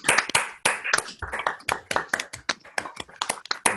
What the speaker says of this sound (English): you can unmute yourself and clap into the microphone